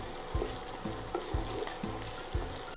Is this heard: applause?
no